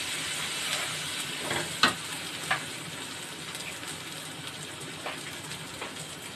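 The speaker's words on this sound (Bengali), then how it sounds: "আবার কষবো" Spiced prawn dopiaza masala sizzles steadily in a pan as it is stir-fried, a soft continuous hiss broken by a few sharp spoon scrapes, close but fairly quiet and with no talk.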